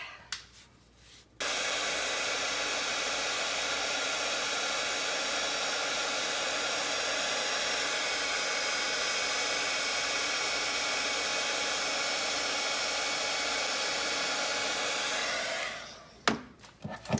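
A heat tool blows a steady, loud roaring whoosh for about fourteen seconds, melting Distress Glaze embossing powder on a paper doll craft, switching on and off cleanly at each end.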